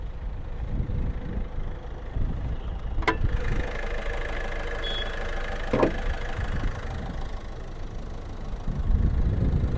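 A 2016 Ford EcoSport Titanium diesel manual engine idles steadily up close, a low continuous rumble with a couple of brief clicks and clanks.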